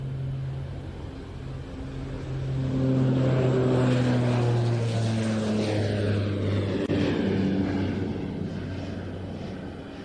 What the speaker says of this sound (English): rolling for takeoff the Saab 2000 that we saw earlier today